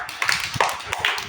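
Young children clap together in a pre-school classroom, a short scattered burst of several claps rather than one crisp unison beat.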